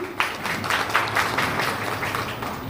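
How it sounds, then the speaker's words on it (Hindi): An audience applauds in welcome of a district education officer at a teacher training session at a block resource centre in Muratganj, Kaushambi. The clapping is loud, dense and continuous, fairly close, with no talk over it. "तालियों से मेरा साथ दीजिए।"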